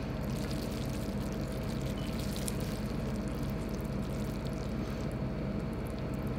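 Warm salt water is poured for soaking salmon roe, a soft, steady rushing hiss that runs evenly and fairly quietly throughout with no talking.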